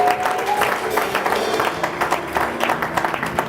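Church congregation clapping in acclaim of the Lord, a dense continuous roll of applause with a few scattered voices mixed in.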